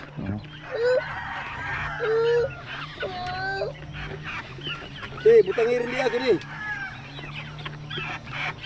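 Chickens on a Filipino farm give short clucking and squawking calls in bursts, some loud and close, over a steady low hum, with people talking nearby.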